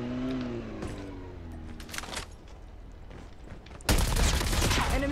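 Gunfire in the mobile shooter COD Mobile, where scattered shots pop over a droning engine hum before a loud, dense burst of rapid automatic fire takes over near the end.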